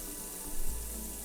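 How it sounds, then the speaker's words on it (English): Garlic sautés in a pan for a budget dollar-store dinner, giving off its water as a steady, close hiss with a low rumble beneath. "You can clearly hear a lot of water from the garlic."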